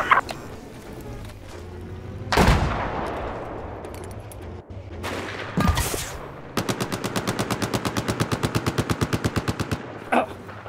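Enemy machine gun fire in Battlefield 4: a few heavy single shots and blasts, then a long steady rapid burst of evenly spaced rounds, fairly close and unaccompanied by speech.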